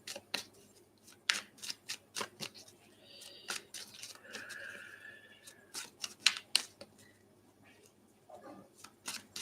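Tarot cards handled and drawn, with scattered crisp flicks, slides and taps of card stock close by, quiet and irregular with no talking.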